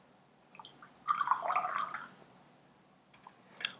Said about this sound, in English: If I pour water into it,